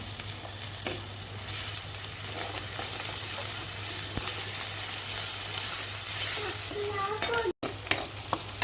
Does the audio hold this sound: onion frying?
yes